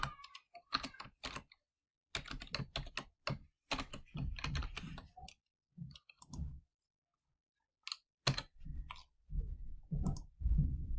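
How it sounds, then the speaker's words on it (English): Fingers type an answer on a computer keyboard in quick bursts of close, crisp key clicks separated by short pauses, with no talking over them. "let's type the answer"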